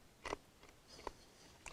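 Three crisp, crunchy bites into a raw carrot, spaced about half a second apart, close and fairly quiet with silence between them.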